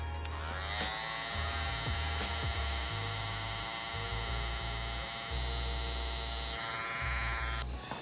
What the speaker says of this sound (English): Keep going with the shaver.